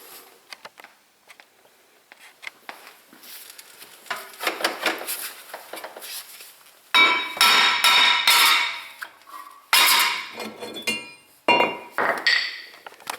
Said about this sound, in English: I'm going to have to beat it off with a hammer